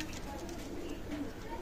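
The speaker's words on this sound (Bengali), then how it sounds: "চমৎকার ওমান ব্লাড লাইনের টেডি কবুতর" Teddy pigeons of Oman bloodline cooing, a soft, low, continuous murmur of coos held under a steady background hiss, faint and close throughout.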